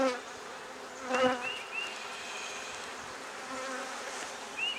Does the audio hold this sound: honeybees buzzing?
yes